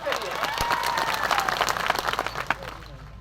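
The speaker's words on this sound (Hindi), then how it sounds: "इसलिए एक बार जोरदार तालियां आप सबके लिए।" Loud, dense applause from a large crowd at a Bharat Adivasi Party political rally in Dungarpur, steady clapping throughout with some voices and whistles mixed in, near and sustained.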